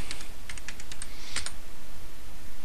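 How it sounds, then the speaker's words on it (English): Quick bursts of keystrokes tap on a computer keyboard, a run of crisp clicks followed by a short cluster, close and clear over a steady background hiss. "if I type in here console"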